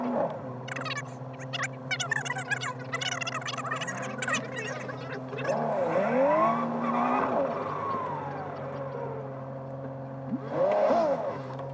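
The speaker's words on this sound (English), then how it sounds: "I slid my tires" A Nissan 370Z's tires slide and squeal through corners at an autocross course, long wavering screeches rising over a steady engine drone, with a second burst of squealing near the end.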